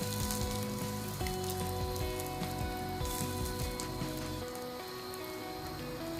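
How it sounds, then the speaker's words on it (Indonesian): Chicken nuggets fry in oil at a forest campsite in Malaysia, a steady, crackling sizzle up close, with faint tonal forest ambience running beneath it. "Sesederhana ini memasak nugget di tengah hutan, tapi rasanya luar biasa."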